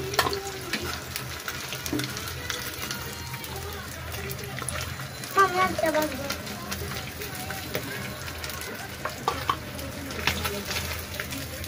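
Lotia fish pakoras fry in hot oil with a steady low sizzle and occasional stirring clinks, while someone talks over the cooking throughout.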